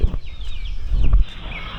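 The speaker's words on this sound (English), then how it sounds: "Daddy, see all these chickens." Chickens clucking inside a chicken hut on a Thai farm, several close, overlapping clucks and squawks with short bursts of scuffling.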